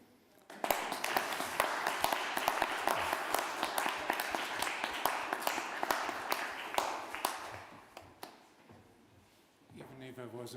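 An audience applauds the award winner at a forum event, a dense burst of clapping that starts abruptly, holds steady for several seconds, then thins out as a voice begins speaking.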